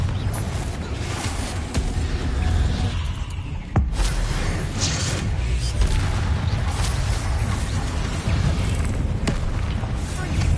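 Fiery spell blasts going off in Hogwarts Legacy, loud booming bursts with a sharp crack near four seconds, over a dense rumbling game soundscape that runs throughout.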